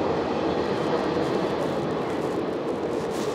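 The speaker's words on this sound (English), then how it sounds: "Oh, there's a freight train passing by." A freight train passes unseen in the dark nearby, a steady broadband rumble and roar at constant loudness with no voices.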